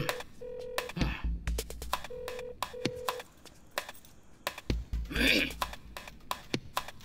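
Phone keypad beeps, several short separate DTMF tones tapped out on a mobile to place a video call, mixed with rustling and clicks and a brief burst of noise, set in a Hindi-dubbed action romance film.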